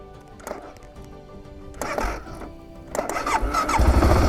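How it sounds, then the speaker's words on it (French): A motorcycle engine cranks and catches, struggling a little before firing up into a steady, rising idle that grows louder by the end. "Alors on va démarrer la moto."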